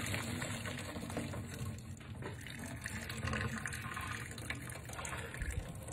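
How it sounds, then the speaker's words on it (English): Water and boiled potatoes pour into a strainer at a kitchen sink, a steady close rush and splash of draining liquid that carries on for the whole stretch. "Now it's time to strain and drain."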